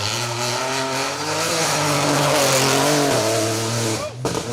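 Front-wheel drive Suzuki Baleno rally car engine revving hard as it climbs a hill stage, loud and close, with sustained acceleration and shifting pitch, then a sudden cut near the end, people talking over it.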